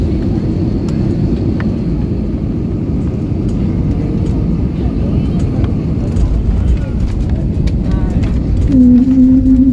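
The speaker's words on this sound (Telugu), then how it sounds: "ఫ్లైట్ ల్యాండ్ అయ్యేటప్పుడు, ఏదో ఇంట్లో పైన నుంచి పోతా ఉన్నట్టు అట్లా సూపర్ అనిపించింది" A passenger airplane descends to land at Port Blair over houses, its engines a loud, steady roar and rumble throughout, with muffled murmuring mixed in.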